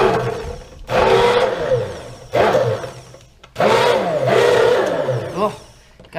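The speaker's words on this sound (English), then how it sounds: "now we're gonna buzz this up with our hand blender so it will emulsify" A hand blender buzzes a mixture in a jar to emulsify it, loud pulsing whirs in several bursts with the pitch shifting as the blade works, interrupted by brief pauses.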